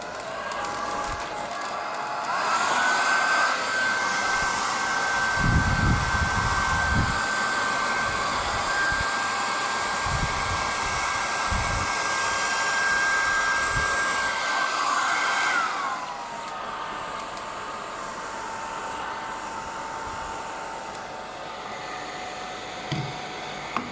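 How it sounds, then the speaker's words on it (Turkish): A hair dryer blows steadily at a wet chick for about fifteen seconds, a loud continuous whooshing drone, then switches down to a lower, quieter hum. "fön makinesiyle uzaktan ağrı peçeteye hani tüyünü yakmadan kurulayacağım"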